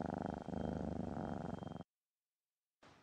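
A cat purrs loudly and close, a steady rhythmic rumble that stops abruptly, followed by a short silence and then a brief return.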